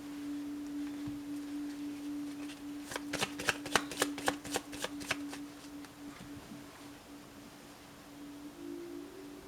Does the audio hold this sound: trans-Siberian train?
no